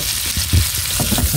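Onions frying loudly in a pan for a Filipino dinengding of rabong, haricots and kalabasa, a dense, close, continuous crackling sizzle.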